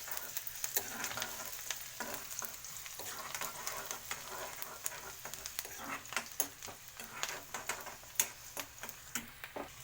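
Onions and cumin fry in oil while being stirred, a soft steady sizzle broken by frequent light scraping ticks of the spoon against the pan, fairly quiet and close.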